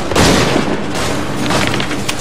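Gunfire in the video game Assassin's Creed 3, heard as loud booming shots and a dense volley of musket fire that continues without pause throughout.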